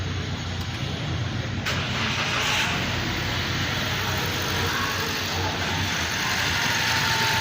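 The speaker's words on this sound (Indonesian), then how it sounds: "Sekarang coba kita nyalakan mesinnya." A car engine runs at a steady idle, a continuous loud rumble close by with no talking.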